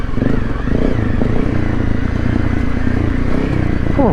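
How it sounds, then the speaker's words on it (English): Honda CRF250 Rally motorcycle engine braking downhill in first gear on wet, rocky ground, a loud, close, steady engine drone with a rough pulsing texture that holds throughout. "first gear, rolling down on the engine braking"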